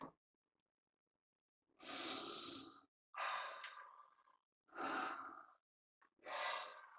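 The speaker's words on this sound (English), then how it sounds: "One last sniff." Four loud, close sniffs in bursts of about a second each, separated by silent gaps, as someone smells brand-new Tamiya Hot Shot radio-control car tyres.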